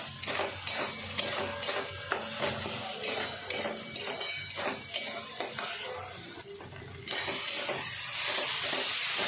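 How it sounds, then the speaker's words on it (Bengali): A spoon scrapes and stirs spice paste with fried onion frying for chicken in a pot, with a steady sizzle under repeated clinks and scrapes, close and fairly loud. "এবার একসাথে ভালো করে মশলার সাথে ভালো করে কষিয়ে নেব।"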